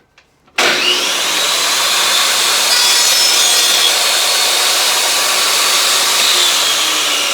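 A table saw cuts a test dado in wood, a loud, steady close whirring rasp that starts suddenly and continues unbroken without talk.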